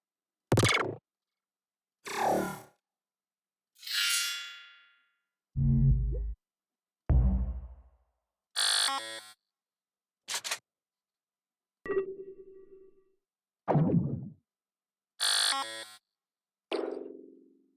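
A sequence of about eleven separate impact sound effects from a sound effects pack: punchy booms, sharp hits and whooshing swells, each loud and isolated, with short silences between.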